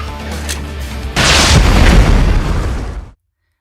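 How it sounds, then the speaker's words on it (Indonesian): A grenade blast in an action film bursts open a garage door: a sudden loud boom hits after a rumbling lead-in, followed by a dense roar of debris and rumble that fades out around three seconds. "Chester meledakkan satu granat yang membuat pintu garasi jebol."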